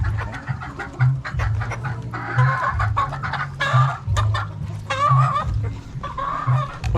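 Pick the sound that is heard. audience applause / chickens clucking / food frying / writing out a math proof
chickens clucking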